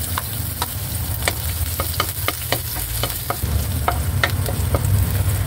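Garlic sizzling in hot oil in a wok for a chopsuey stir-fry, a steady close frying hiss broken by sharp scraping clicks of a spatula stirring, with no talking.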